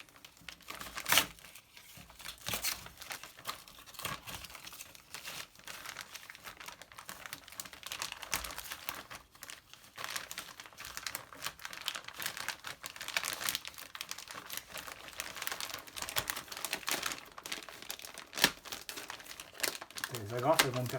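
A Polini exhaust is unwrapped from its plastic bag, giving close, continuous crinkling and rustling with occasional tearing and scraping, while someone talks quietly throughout.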